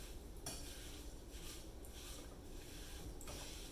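A spoon stirs wineberry jam in a pot, faint scraping and clinking strokes against the pot at irregular intervals over a steady low background hiss.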